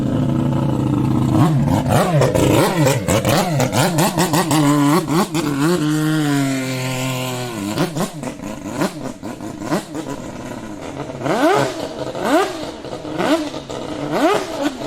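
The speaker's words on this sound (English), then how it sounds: "what a burnout" A 1000 hp Mazda rotary-powered McLaren P1 drift car roars through a long, loud burnout. The engine screams near the limiter, then surges and falls in sharp revving bursts, with no talk over it.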